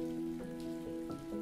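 Soft rain patters in a steady, faint wash beneath a sustained, tonal musical drone, with a few slightly louder drops standing out; no speech.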